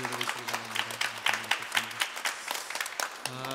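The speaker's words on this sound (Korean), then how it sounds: "우리 박수로 우리 장로님 가정 박수로 환영하도록 하겠습니다" Scattered hand clapping from a church congregation welcoming a visiting family, a modest patter of applause mixed with a voice speaking over it at the front.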